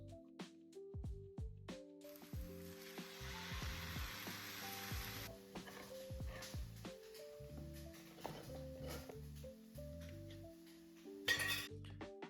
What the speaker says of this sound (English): Cook that off for a minute before popping your turkey and a can of chopped tomatoes into the pan.